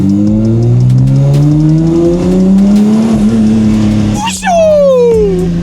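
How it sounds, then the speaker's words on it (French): A loud BMW engine, tuned to 1000 horsepower, revs and climbs in pitch, roaring steadily up close, with a voice speaking over it. "le moteur, il veut partir"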